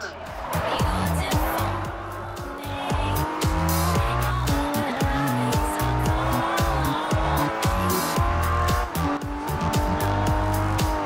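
Racing-game car in Forza Horizon 2 braking hard with auto braking on, tires squealing over a loud continuous engine roar, with speech over the top throughout.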